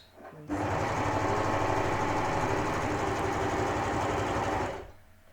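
An Amber Air S400 machine runs in one continuous loud burst of about four seconds, sewing cord to a fabric edge, with a steady whirring drone that starts abruptly and tapers off at the end.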